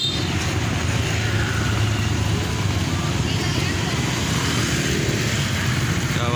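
A bus arrives at a stop in heavy festival traffic, with a steady low engine rumble and road noise that runs continuously under a busy outdoor background.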